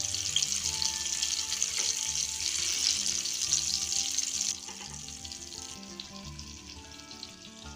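Stuffed tinda (round gourd) sizzle steadily in hot oil as they are turned over. The dense frying hiss carries on throughout and eases slightly partway through, with no talking.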